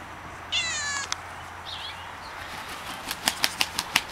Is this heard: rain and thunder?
no